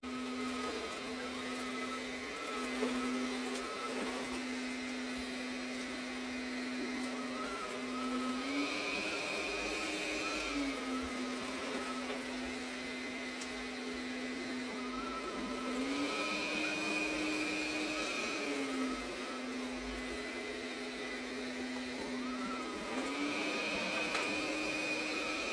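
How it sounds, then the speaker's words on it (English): Arnagar S8 robot vacuum cleaner on carpet in boost suction mode, a steady high-pitched motor whine that periodically steps up in pitch and falls back, moderately close with no talking. "And there we can see the boost suction at the carpet"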